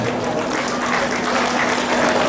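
Wedding guests at a banquet table applaud together, a steady, dense patter of clapping hands that holds at an even loudness throughout.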